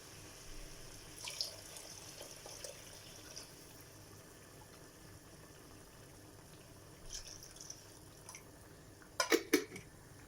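Warmed meat broth poured into a pot of rice pilaf with chicken liver and currants, a faint steady trickle with a few sharper splashes or clinks near the end, no talking.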